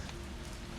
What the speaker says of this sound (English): So we're in a nice little apartment, and there's a rain.